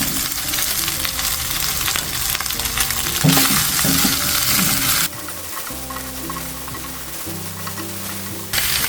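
Ginger and bottle gourd frying in a pot for a pork soup, giving a steady loud sizzle throughout, with clattering stirring bursts and a sharper jump in crackle partway as the ingredients hit the hot oil.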